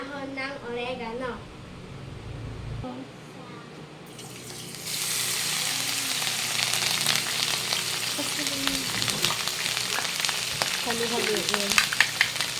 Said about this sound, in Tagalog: Pagkulo ng mantika, ilagay na ang ginayat na dahon ng oregano.